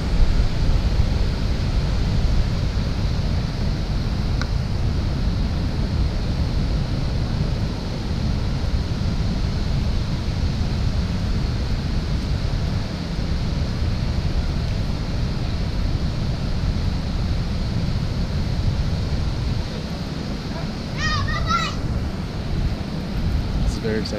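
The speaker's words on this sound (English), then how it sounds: "that is the majestic waterfall" Tinuy-An Falls in Surigao del Sur, swollen after days of rain, roars as a steady, dense broadband wash that holds loud and unbroken throughout, with a brief faint higher sound near the end.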